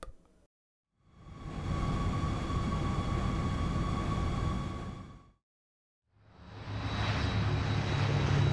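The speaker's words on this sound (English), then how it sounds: "Blimp." Engine drone of a blimp in a children's cartoon about scary heavy vehicles, a loud steady hum swelling in, holding for several seconds and fading, followed by another vehicle roar starting up.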